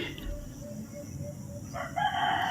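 A rooster crows faintly in the distance amid outdoor ambience, with a coucal and other birds calling softly in the background.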